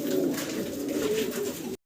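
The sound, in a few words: red stesar pigeon pair cooing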